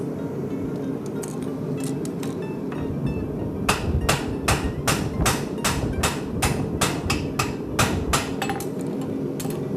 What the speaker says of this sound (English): Always hitting off the horn of the anvil